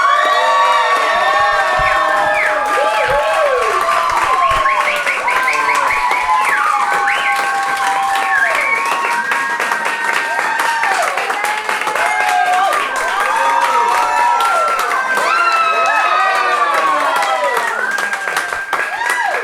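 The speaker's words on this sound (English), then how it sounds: "I don't think I've heard an applause that loud yet" At an open mic night, a packed audience erupts in loud applause mixed with high shouts, whoops and cheering voices, a continuous roaring crowd that stays intense throughout.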